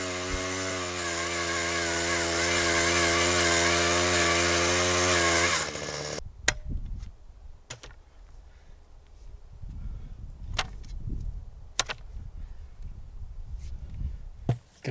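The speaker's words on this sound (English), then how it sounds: "this auger does help a little bit" A gas-powered auger drills post holes in the ground for a chicken coop, its engine droning loud and steady for several seconds before cutting off. Scraping, thumping and digging noises follow.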